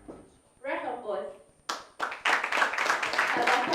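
At a debate academies event, a voice speaks first, then a burst of audience clapping for poetry finalists breaks out and grows into dense, fairly close applause.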